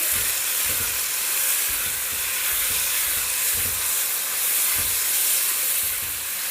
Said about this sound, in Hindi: सॉटे करेंगे थोड़ा सा 10-20 सेकेंड